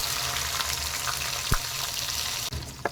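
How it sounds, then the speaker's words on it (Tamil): Ground shallot paste frying in a pan for a chicken pepper masala makes a continuous close sizzle, with a couple of short knocks from stirring partway through and near the end. "இப்போ வெங்காய பேஸ்ட் வந்து நல்லா வதக்கிடணுங்க, பச்சை வாடை போகிற அளவுக்கு"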